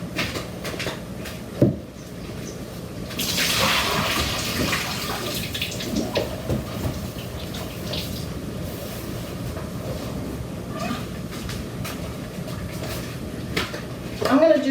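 Water pours and rushes steadily for several seconds after a knock, a continuous splashing wash with occasional clunks and a voice speaking.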